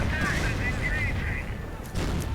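A World War II strategy video game battle with tanks and infantry, where Panther tanks fire on riflemen. Dense, continuous gunfire and rumbling booms fill the mix, with a whining tone above them as a commentator talks over the fighting.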